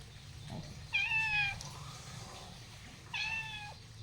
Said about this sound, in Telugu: పిల్లి చూడు అక్కడ ఉన్న